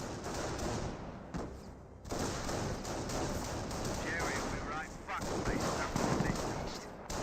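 Machine gun fire from an MMG carrier in a Company of Heroes battle, sustained rattling bursts amid battlefield noise, with a commentator talking over it.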